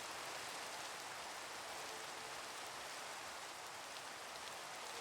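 Steady rain falls outdoors near water, a dense even hiss of drops on surfaces that stays constant and moderately quiet throughout, with no voices.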